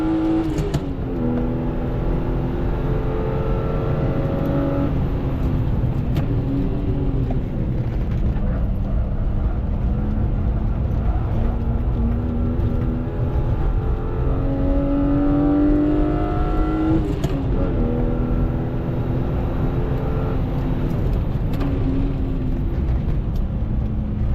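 A mostly stock BMW E36 M3 straight-six howls on a race track, rising and falling through hard acceleration and gear changes, loud and continuous from inside the car.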